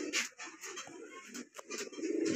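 Pigeons coo steadily at a home loft where the main breeding birds are resting, soft repeated calls close by with no talk over them.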